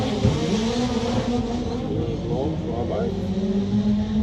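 Drag racing car at Santa Pod roaring down the strip, a loud raw engine drone with shifting pitch as the car loses traction, under an announcer's commentary.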